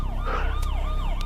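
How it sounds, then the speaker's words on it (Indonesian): A police siren played from a phone, wailing in rising and falling sweeps over steady low rumble, moderately loud and continuous with no talk. "tiba-tiba terdengar suara sirine polisi yang membuat mereka langsung kabur"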